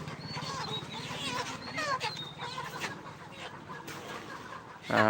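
Layer chickens at a poultry farm cluck and squawk continuously in a dense flock chorus, with many overlapping calls close by and a louder burst near the end.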